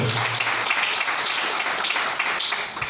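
A church congregation breaks into loud, steady applause to acclaim the Lord, the dense clapping filling the room without pause for about three seconds.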